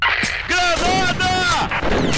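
A grenade blast erupts in a Combat Arms online match, a loud booming explosion with crackling debris and gunfire-like bursts, heard close amid busy game audio while voices talk over it.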